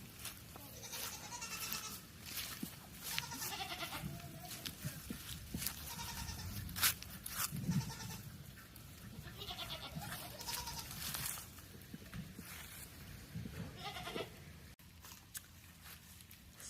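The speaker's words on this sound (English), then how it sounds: "So some of you guys might be wondering why our goat Peter is limping." Goat on a farm bleating repeatedly in short wavering calls amid rustling and footsteps, with occasional quiet human voices nearby.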